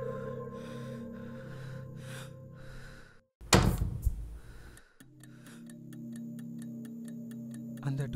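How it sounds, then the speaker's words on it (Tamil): A door sounds in a Tamil short film: a sharp, loud burst cuts through steady background tones about midway, followed by a ticking, clock-like rhythm. "அந்த டோர் சவுண்டு."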